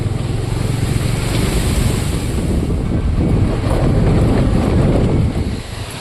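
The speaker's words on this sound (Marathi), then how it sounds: "बघा हे रस्त्यावर हे नदीचं पाणी आलं आहे" River water released from a dam flows across a road in a steady, loud rushing wash, with wind buffeting the microphone and no voices.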